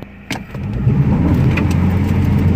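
A front-wheel-drive automatic car, held by the e-brake for a burnout, rises from idle into a loud, sustained engine rev right up close, with no talking.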